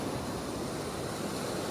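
Fast-flowing water of the Yellowstone River rushes steadily past kayaks, a dense, continuous broadband roar heard close and alone with no voices.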